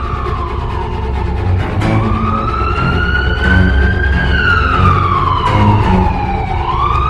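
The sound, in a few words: police siren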